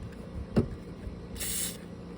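A short hiss of lubricant sprayed onto the door hinges of a 2017 Nissan Murano, a brief burst standing out near and fairly clear against quiet background.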